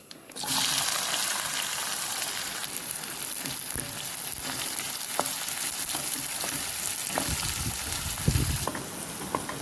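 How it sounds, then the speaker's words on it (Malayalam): Shallots frying in hot oil right after fennel seeds have spluttered, a tempering for a green peas curry: a loud, steady close-up sizzle running throughout, with occasional stirring scrapes and pops. "പെരിഞ്ജീരകം പൊട്ടിക്കഴിഞ്ഞിട്ട് ചെറിയുള്ളി"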